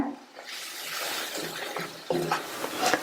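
A spring onion and tomato side dish is stirred in a pan close up, giving a continuous wet scraping and sizzle with uneven spoon strokes.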